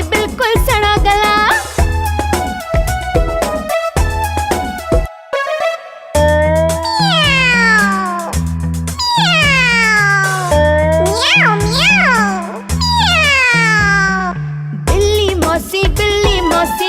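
Loud, closely spaced cat meows repeat over and over in a Hindi children's rhyme, each rising and falling in pitch, layered with a bright tonal backing.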